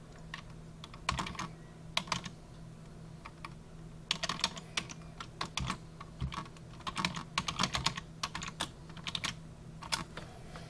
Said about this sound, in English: we're going to type in our username that we made during the installation